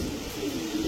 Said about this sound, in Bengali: একটা সিলভার গলা কবুতর ভাই। সিলভার গলা কবুতর।